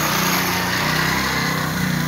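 A motorcycle engine drives a threshing setup for mustard crop outdoors, giving a loud, steady high-pitched buzzing drone with a constant whirring mechanical hum and no break.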